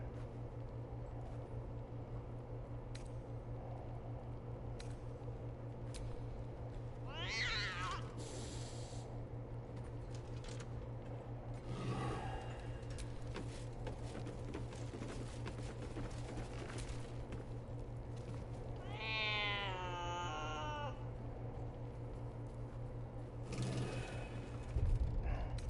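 A cat in Baldur's Gate 3 gives a few short, rising meows spread out over a steady low game hum, with quiet clicks and rustles in between and no clear talking.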